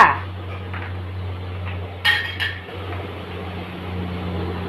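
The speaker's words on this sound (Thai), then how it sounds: "ใส่ถุ่งอกลงไปเลยจ้า ใส่ถุ่งอกลงไปเลยจ้า" Bean sprouts are stir-fried with minced pork in a pan for a bean sprout, tofu and egg dish: a brief metallic clatter of utensil against pan over a low steady hum, close by.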